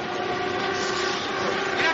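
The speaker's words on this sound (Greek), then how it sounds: "Το τρένο φεύγει." A departing train rumbles steadily at moderate loudness, a continuous mechanical drone with tonal hum running unbroken throughout.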